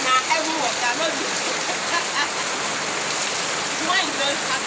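Heavy rain pours down outdoors on someone bathing, a dense, constant hiss of drops hitting surfaces close by, with faint voices talking briefly under the downpour.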